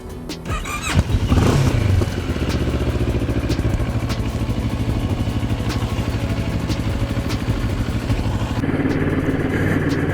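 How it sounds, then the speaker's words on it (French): Moto Morini X-Cape motorcycle with its Kawasaki 649 twin warming up, a close, steady idle with rhythmic pulsing and a brief rise in revs near the start, holding evenly throughout. "Allez, on fait chauffer le moteur."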